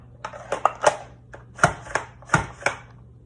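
A Pampered Chef Rapid Prep mandoline slices potatoes on its smallest French fry setting, giving a quick series of sharp chopping strokes in irregular bursts, close and clear over a low steady hum.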